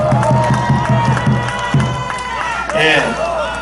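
A large outdoor rally crowd at Daejeon Station's west plaza claps and cheers over rhythmic beats and loud shouting voices, a dense, close and energetic din.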